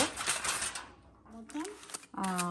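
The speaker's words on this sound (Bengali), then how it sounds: "এখন আমি আমার ফয়েল দিয়ে দুটোকে র্যাপ করব।" Aluminium foil crinkles and rustles as two garlic-marinated pieces of shawarma meat are wrapped tightly, crisp crackling bursts that come and go while someone talks.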